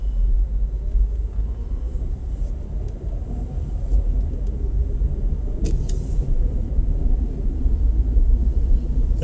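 A car drives through empty city streets, with a steady low road rumble and engine drone heard from inside the cabin and a few faint passing whooshes.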